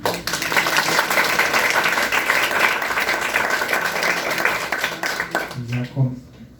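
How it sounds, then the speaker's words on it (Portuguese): A crowd applauding a speaker at a talk on communication habits, a loud, dense burst of clapping holding steady before tapering off, with a voice emerging near the end. "pedir para vocês uma salva de palmas para o meu amigo Fabinho"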